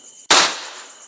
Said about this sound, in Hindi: हम फोड़ रहे हैं बम